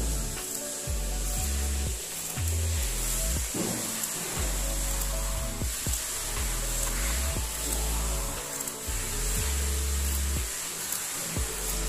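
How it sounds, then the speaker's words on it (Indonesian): Scissors cut through the middle of a sewn batik fabric seam in a series of repeated rasping strokes, close and fairly loud, each cut a rough, grating swipe with brief gaps between them. "Langsung saja kita potong di bagian tengah-tengah jahitannya."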